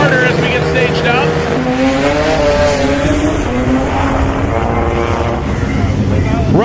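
A Mazda RX-7 drag race car staging and launching at a drag strip, its rotary engine screaming with rising, sweeping pitch, loud and close, while a commentator talks over it.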